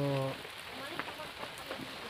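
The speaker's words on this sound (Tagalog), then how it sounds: "napakalakas po ng ulan" Heavy rain falls steadily at a fish cage outdoors, a broad continuous hiss of drops on surfaces, with a brief voice-like tone at the start.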